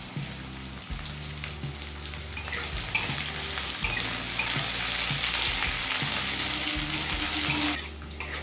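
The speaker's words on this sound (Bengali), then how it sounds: "গাজর কাজু কিশমিশ আর বিনস চার পাঁচ মিনিট ভেজে নিয়েছি" Carrots, beans, cashews and raisins frying in a pan for a vegetable dal, a loud dense sizzle with repeated scraping stirs, rising in the middle and easing off near the end, no voices.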